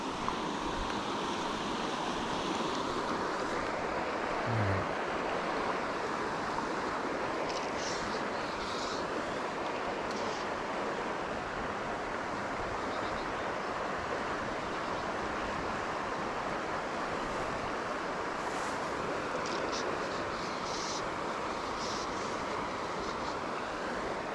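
Fast-moving water of Spring Creek in Pennsylvania after Hurricane Ida, a steady, loud, broadband rush of flowing current that continues unbroken with no talking over it.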